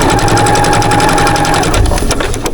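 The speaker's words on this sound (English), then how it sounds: "I'm just going to turn it and sew it this way" Sewing machine stitching a quilt, a fast steady mechanical rattle of rapid needle strokes that runs loud and continuous, then stutters and slows into a few separate clunks near the end.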